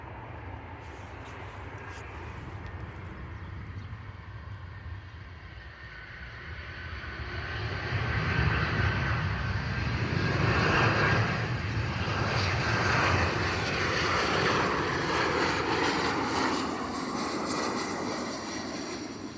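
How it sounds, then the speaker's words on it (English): A Ryanair Boeing 737 airliner comes in to land at an airport, its engine roar building from a distant rumble to a loud, sustained whine as it passes overhead. "look at this gorgeous Ryanair Boeing 737 coming in"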